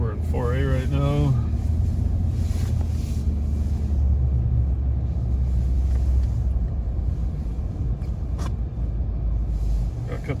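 A 2021 Ford F-150 PowerBoost hybrid pickup on Firestone winter tires, in 4A, ploughs through deep snow with a steady low rumble of engine and road noise and brief talk near the start.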